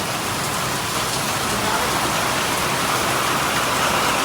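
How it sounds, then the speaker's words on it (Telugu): Steady, dense downpour of heavy rain, a continuous loud hiss of water pouring down with no voices. "ఇంత వర్షం ఫస్ట్ టైం చూస్తున్నా"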